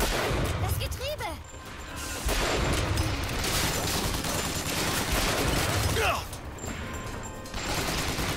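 Gunfire in the video game BioShock Infinite, sustained loud bursts of shots layered over game noise, with a couple of whooshing sweeps and a steady roaring bed throughout.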